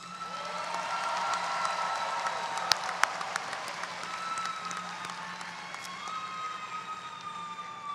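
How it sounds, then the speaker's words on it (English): An audience of family and friends gives a joyous round of applause at Albany State University's Fall 2022 commencement: a broad, sustained wash of clapping from a large crowd, with a few sharper claps standing out and faint tones ringing beneath. "please join me in giving them a joyous round of applause"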